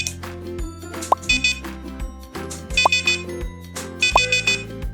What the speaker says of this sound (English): Did you notice how the sound changes with each press? That helps WizBot keep a count.